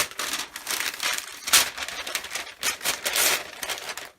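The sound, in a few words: ripping open card kit packaging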